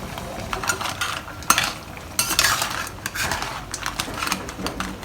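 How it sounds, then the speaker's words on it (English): Crabs tossed in a garlic white pepper sauce in a pan, close, irregular clatter and scraping of a utensil against the pan with soft sizzle beneath, no talking. "Give this a light stir. Make sure that the crabs are all coated nicely with this beautiful sauce."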